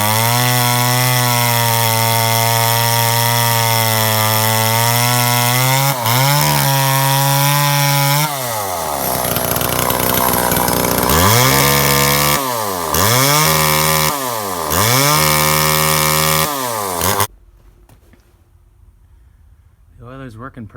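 A vintage top-handle chainsaw cuts through wood, loud and close, with a steady high engine whine that bogs and recovers in repeated pulses while the blade bites, then cuts off abruptly into near silence.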